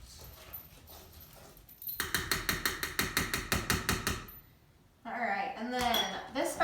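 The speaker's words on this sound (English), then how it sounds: "this spatula is actually really good for getting all the dry mix off the side" Spatula stirring boxed cake batter in a bowl and scraping dry mix off the sides, a fast run of rhythmic scraping strokes up close, then a voice speaking afterward.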